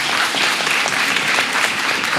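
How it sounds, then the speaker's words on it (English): Loud, dense applause fills a hall at a Japanese speech contest in Kenya, the audience clapping steadily and evenly after a contestant's speech. "Round of applause for"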